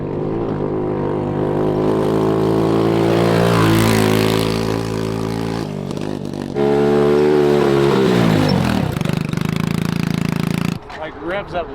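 A modified mini Jeep's small engine revs hard and climbs in pitch as it accelerates in a speed test, dropping briefly between gears before revving again and cutting off near the end.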